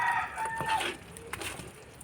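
A rooster crows faintly in the distance, a brief, quiet call over low background noise, with no talking.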